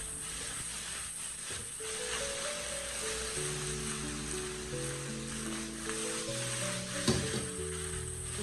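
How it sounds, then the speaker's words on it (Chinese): Beaten eggs sizzle and crackle in a hot pan as they are stir-fried, a steady loud frying hiss with occasional scrape and stir noises, no voices. "这个时候的鸡蛋液完全的凝固了，稍微的翻炒几下"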